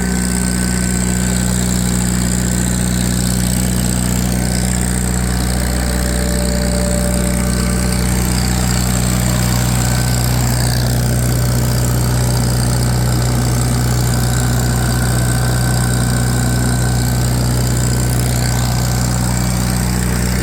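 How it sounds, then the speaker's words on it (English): A 1958 Farmall 350 tractor engine runs on a dyno with a loud, steady mechanical drone and a constant low throb for the whole stretch, never letting up. "Now I have my 1958 Farmall 350 on her."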